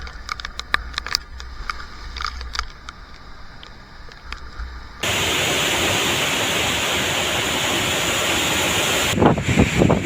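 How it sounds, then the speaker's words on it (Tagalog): Typhoon Uwan drives a steady, loud roar of wind and sea waves, close and continuous, following a stretch of gusty rustling with scattered knocks; a sharper burst of noise rises near the end. "Grabe, alon."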